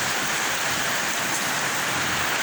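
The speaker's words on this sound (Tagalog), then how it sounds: "Grabe po ang ulan na dito" Heavy rain pours steadily in a dense, continuous hiss, with no pauses and no voices.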